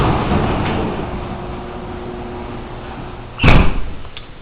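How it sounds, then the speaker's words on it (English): A house's garage door opener runs with a steady mechanical rumble that ends in a loud thump as the door reaches its stop. "See, fully functional garage door opener there."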